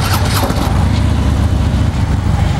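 A Harley Davidson Street Glide FLHX motorcycle engine, already running, rumbles loud and close at a steady idle with a low, uneven throb; no talking.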